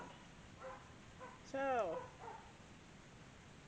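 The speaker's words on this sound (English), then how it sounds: "if you hear all my dogs, they're going off" A single dog's bark or yelp rings out briefly near the middle, with faint calls around it over a low background hiss.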